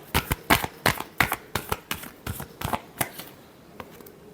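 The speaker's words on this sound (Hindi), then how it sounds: "Last shuffle." Tarot cards being shuffled by hand, a rapid series of about a dozen crisp riffling bursts in an uneven rhythm, close and clear, fading toward the end, with no talking.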